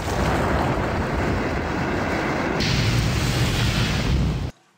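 Simulated Mount St. Helens eruption effect, a loud sustained roaring rumble that stays dense and steady for several seconds and then cuts off abruptly into near silence, with no talking.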